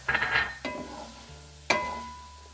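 A few metal spoon clinks and scrapes against a pan while potatoes coated in red chili powder are stirred, with a soft shuffle between two sharp, close taps.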